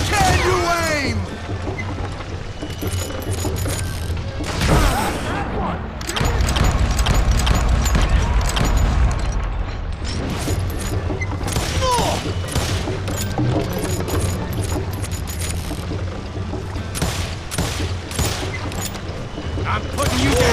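Gunfire from the video game Call of Juarez, with loud shots cracking in dense, irregular volleys throughout, some overlapping into rapid bursts. A continuous busy backdrop of game effects runs underneath, and voices are heard among the shooting.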